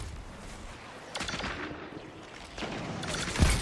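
Syncopation-53 pulse rifle fire in Destiny 2, heard as short bursts of rapid cracking shots at moderate distance, two main volleys with a sharper close shot near the end, set in low game ambience.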